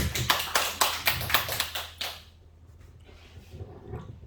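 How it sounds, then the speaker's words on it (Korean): A church congregation claps in a short run of distinct, rhythmic hand claps, fairly close and loud for about two seconds, then trailing off into a quiet room with faint scattered sounds. "박수 부탁해요."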